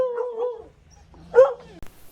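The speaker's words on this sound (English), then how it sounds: "There's a lot of beautiful little dogs there that are just dying to come home to somebody." Dogs at an overcrowded animal shelter, well past capacity, give a short whimper and then a brief yip nearby, with a faint background clatter.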